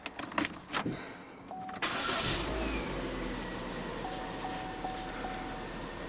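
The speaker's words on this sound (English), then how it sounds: "I'm going to start the car and just run the engine" A few clicks and a brief crank, then a Vauxhall Astra automatic's engine fires up and runs steadily at moderate volume, with a faint chiming tone in the background.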